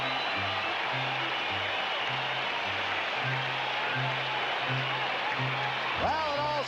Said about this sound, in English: the crowd reacting to George Brett